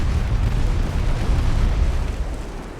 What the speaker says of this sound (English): 431 damage on the torpedo hit